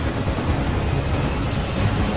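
A helicopter in the 2010 Iraq war film Green Zone gives a steady, loud rotor and engine roar throughout, with no voices.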